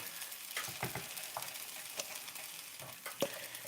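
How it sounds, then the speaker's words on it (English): Soft sizzling of garlic toast in a pan with occasional crackles and light scraping pops, quiet and close, no voices. "It's got some sizzle."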